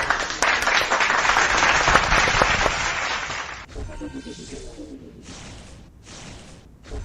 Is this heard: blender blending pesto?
no